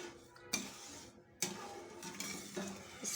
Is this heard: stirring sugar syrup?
yes